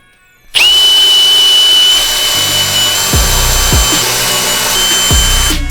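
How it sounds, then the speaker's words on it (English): A power drill bores out the rivets on a Harley-Davidson clutch basket. After a brief quiet start it spins up into a loud, steady, close whine and holds it to the end, with a few low knocks as the bit bites into the metal. "So after we drilled out the rivets"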